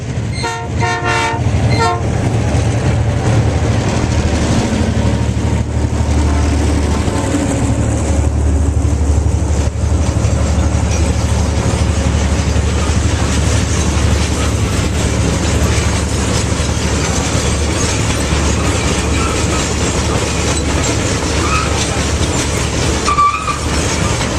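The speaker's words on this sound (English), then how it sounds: "The train's coming." A train rumbles past close by in the Atacama Desert, loud and steady with a deep low roar and rattling wheels, a horn sounding briefly near the start and again near the end.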